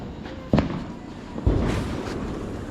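Diwali sky-shot fireworks bursting outdoors, with two sharp, fairly distant booms about a second apart, each trailing off into a long rumbling decay over steady background noise.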